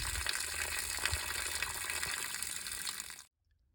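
Antifreeze coolant pours into the radiator of an IH 1486 tractor, a close, steady gushing liquid stream that runs continuously and then cuts off abruptly near the end.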